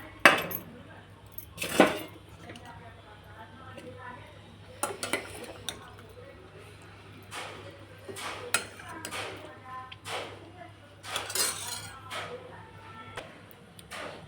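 Usal being served onto a plate in a home kitchen, with repeated sharp clinks of a spoon against steel dishes and pans, spaced irregularly and fairly close, with a voice speaking between them.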